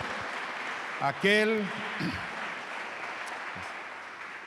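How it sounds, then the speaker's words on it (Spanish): Church congregation clapping, a steady wash of applause running beneath a preacher's brief spoken and sung words, moderately near. "Así que un aplauso al Rey de Reyes, al Señor de Señores."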